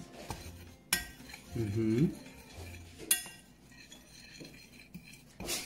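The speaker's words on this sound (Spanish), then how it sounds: "Y vamos a mezclar los polvitos." Spoon stirring dry powdered baking ingredients for little cakes in a bowl, with scraping and a few sharp clinks against the rim, close and soft, with a brief spoken reply.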